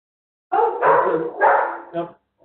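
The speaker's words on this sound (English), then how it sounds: "dogs are barking." Dogs barking loudly and close by in a burst of several rough, uneven barks with short gaps between them.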